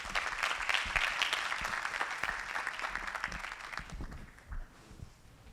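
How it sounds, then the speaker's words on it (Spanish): An audience applauds panelists at a forum on the internationalization of higher education in the digital age, with close clapping that swells early and then thins out toward the end. "pido un fuerte aplauso para cada uno de ellos"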